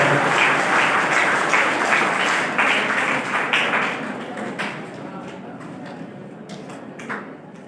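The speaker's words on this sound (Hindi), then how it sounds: "गुरुजनों का सम्मान ही सबसे बड़ा सम्मान होता है, तालियों में कमी ना हो।" An audience at a G20 ceremony in Deoghar, Jharkhand, applauds loudly with dense clapping that thins out and fades over the second half, leaving only scattered claps.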